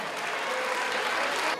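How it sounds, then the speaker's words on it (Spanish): Brief, dense applause from the audience at a Christmas dance festival, a short burst of steady clapping with a faint tone running underneath. "el aplauso"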